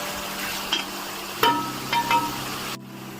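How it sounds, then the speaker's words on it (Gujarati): Finely chopped onions sauté in a pan for a Punjabi-style palak paneer, giving a steady low sizzle with a few brief stirring scrapes. The sizzle cuts off abruptly near the end. "ડુંગળી ગોલ્ડન બ્રાઉન ન થઈ જાય ત્યાં સુધી એને સાતળી લઈશ"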